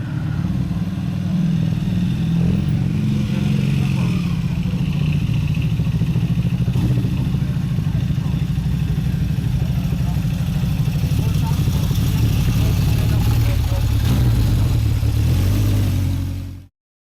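Classic motorcycles at a bike meet at the Duke William pub in Matlock: a close motorcycle engine runs steadily with a throbbing low drone for about sixteen seconds, then cuts off abruptly.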